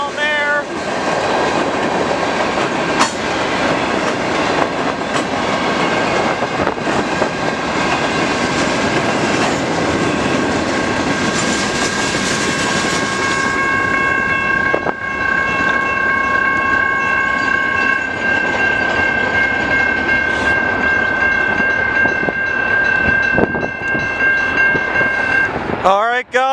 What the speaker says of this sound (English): the train's down there.